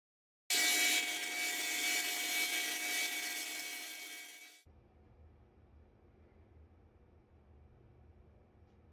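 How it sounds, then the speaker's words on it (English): Small roughed-out wood pieces get their edges sanded: a loud, hissy abrasive rush of about four seconds that stops abruptly, leaving a quiet low hum with no voices. "Then just sanding to knock down these edges."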